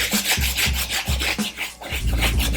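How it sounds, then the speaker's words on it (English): Brush scrubbing a wet sneaker with shoe cleaner, close and fairly loud, with quick back-and-forth rubbing strokes in an even rhythm and no talk. "start scrubbing."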